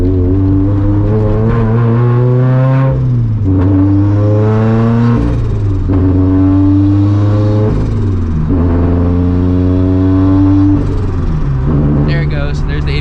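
A Scion FR-S with a small Greddy turbo accelerates hard, its engine tone climbing repeatedly through the gears with a loud, close, continuous roar and brief drops at each shift.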